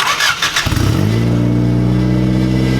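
A turbocharged Honda EG Civic engine cranks briefly, then catches and settles into a loud, deep, throaty idle that rumbles steadily up close.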